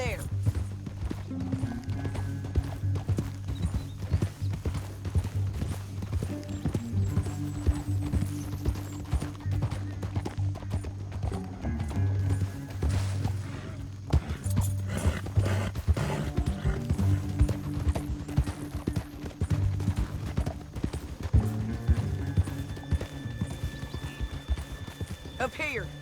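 Horse hooves clip-clop steadily in a Red Dead Redemption 2 canyon scene, sitting under game dialogue and a low music bed throughout, with occasional whinnies.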